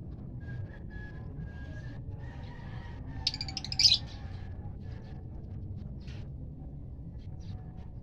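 Pet pigeons in a loft, faint scattered chirps and coos over a low background hum, with one brief louder burst of calling midway.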